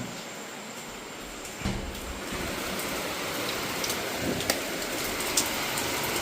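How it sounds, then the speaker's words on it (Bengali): Heavy monsoon rain falls outside in a steady, dense hiss, with a few sharper drips and splashes standing out over the constant downpour. "মোটামুটি বেশ ভালোই বৃষ্টি হচ্ছে বাইরে, দেখাচ্ছি।"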